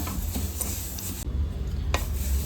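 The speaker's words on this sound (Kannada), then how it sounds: "ಎಲ್ಲ ಎಳ್ಳನ್ನು ಇದೇ ಥರ ಹುರ್ಕೊಳ್ಳೋಣ" Sesame seeds are dry-roasted in a pan with steady stirring, giving soft, close scraping and rustling with faint sizzle and a brief pause partway through.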